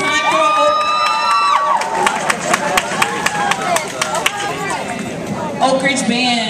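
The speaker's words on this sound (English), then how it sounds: "Another round of applause, please, because they did sound good." A crowd applauds and cheers for the Oak Ridge High School marching band at Valencia. The sound is loud and continuous, with whoops and shouts over steady clapping and children's voices mixed in throughout.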